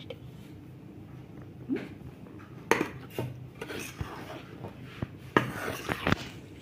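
Wheat flour and rice flour are mixed in a bowl by hand or spoon, giving soft scraping and rubbing with a few sharp clinks against the bowl, quiet and close, without speech.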